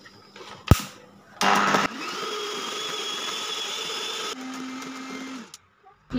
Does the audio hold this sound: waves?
no